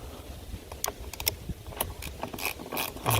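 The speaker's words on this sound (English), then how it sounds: "And tighten it down." A nut is tightened onto a 24V ride-on kids' buggy wheel with a quick series of clicking, ratcheting ticks at an irregular rhythm, close and moderately loud, with no talking.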